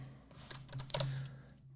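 Someone types quickly on a computer keyboard close to the microphone, a short burst of clustered clicks over a steady low background hum, with no speech.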